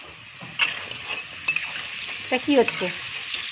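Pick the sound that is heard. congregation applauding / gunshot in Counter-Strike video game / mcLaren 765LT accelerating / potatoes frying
potatoes frying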